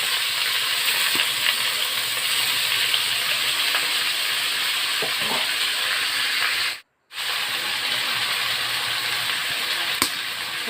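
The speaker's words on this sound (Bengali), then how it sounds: "তেল গরম হয়ে গেছে গা এবার আলু দিয়ে মাশরুম দিয়ে একলাগে একটু ভাজা দিতে হবে" Potatoes and mushrooms fry together in hot oil, giving a steady, loud sizzling hiss that runs throughout with only a brief dropout, and no one speaks.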